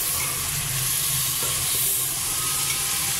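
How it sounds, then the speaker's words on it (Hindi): Nihari mixture being stir-fried in a pan makes a dense, steady sizzle, with a few soft stirring scrapes and clinks near the middle. "चलो तो भूनते हुए आपको दिखाते हैं।"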